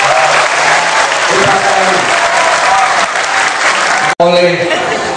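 Applause from an audience of students at a Nahdlatul Ulama student anti-drug declaration event in Temanggung, loud and sustained with some voices mixed in, breaking off briefly near the end before resuming.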